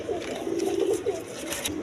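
A pair of Afsani grizzle pigeons, a hen and a cock, cooing: steady low, burbling coos, close and moderately loud, running continuously without talk.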